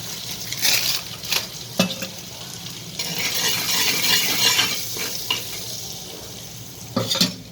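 Butter and pav bhaji masala sizzle on a hot griddle, a loud close hiss swelling and fading while a spatula scrapes and taps against the metal in several distinct strokes.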